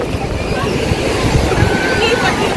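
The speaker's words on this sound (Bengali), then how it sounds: "আর এখানে ঢেউগুলো বেশ বড় বড় আসছে" Large ocean waves roll and break steadily onto a beach, giving a loud continuous wash of surf with wind noise over it and no clear speech.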